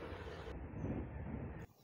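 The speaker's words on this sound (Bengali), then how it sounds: "আমাদের ট্রেনটা যতই সামনের দিকে এগোচ্ছে ততই দূরে যাচ্ছে একের পর এক স্টেশন" A Vistadome coach train running along the tracks makes a steady, muffled rumble heard from inside the carriage, which cuts off abruptly near the end.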